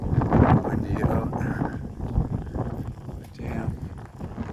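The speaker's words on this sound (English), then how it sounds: "Windy out." Gusty wind rumbles and buffets the microphone steadily, a low roaring wash that swells near the start and continues throughout.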